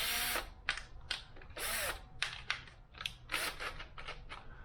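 A power drill fitted with a buffing attachment polishes the painted frame of a bike, whirring in repeated short bursts with brief pauses between, close and fairly loud.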